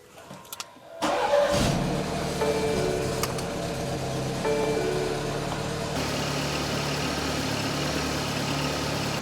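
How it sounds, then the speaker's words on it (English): A 4-cylinder BMW engine cranks and catches after a few quiet clicks, then settles into a steady, close mid-pitched idle with a faint change in tone partway through. "So I've let the car idle for a while."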